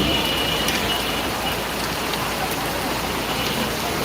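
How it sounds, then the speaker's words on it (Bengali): Heavy rain pours steadily in Dhaka, a dense even hiss of drops hitting surfaces, with faint traffic in the background. "প্রচুর বৃষ্টি হচ্ছে ঢাকাতে এখন দেখেন"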